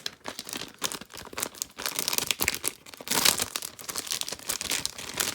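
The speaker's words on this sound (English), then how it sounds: "I'm going to take it out of this paper here." Paper crinkling and tearing as a graded Michael Jordan trading card is pulled from its paper wrapping, a close, continuous rustle with sharper bursts, no talk.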